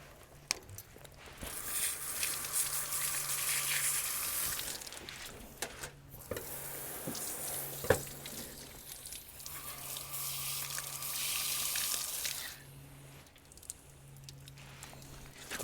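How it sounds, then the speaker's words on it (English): A gutted Muscovy duck is rinsed under a running tap, with two long bursts of splashing water and wet handling noises, separated by quieter gaps, close and moderately loud. "Give him a rinse."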